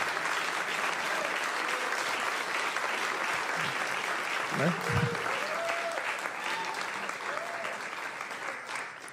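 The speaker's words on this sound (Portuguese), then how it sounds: "peço uma salva de palmas para essas figuras tão importantes" Audience applause for a quartet of musicians at a choro concert at Sesc Consolação, a steady dense clapping that fills the whole stretch, with a brief spoken word from the stage over it.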